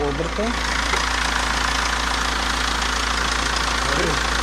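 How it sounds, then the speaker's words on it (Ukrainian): A 2004 Chrysler car engine idles steadily after starting, a constant low hum with slight knocking texture running throughout, close by, with a brief bit of talk near the start and end. "Ось машина завелася."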